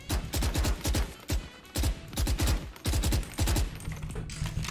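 Automatic gunfire in the shooter game Valorant comes in several rapid, loud bursts of shots separated by short pauses, with no voices over it.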